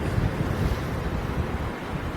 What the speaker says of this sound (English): But with my eyes closed, I can still hear the sea.